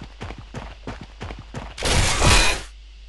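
A weapon firing in a UDK first-person shooter test: a steady series of about six sharp shots, then a louder, longer burst with a noisy blast that fades away.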